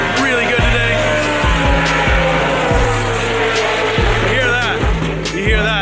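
Race cars scream past at full throttle on a circuit, loud and close, with repeated rising and falling engine notes as gears shift and cars pass in succession.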